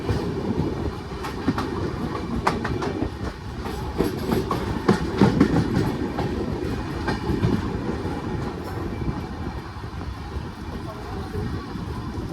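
Runicha Express 14087 passenger train rolling out of Nawa City railway station, a steady rumble with rhythmic clickety-clack of wheels over rail joints, loud and continuous throughout.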